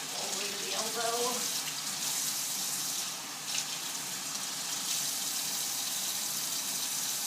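Tap water runs steadily into a sink while arms are rinsed during a veterinary surgical scrub, a continuous close hiss and splash with brief dips as the flow is disturbed, and a voice speaking faintly underneath.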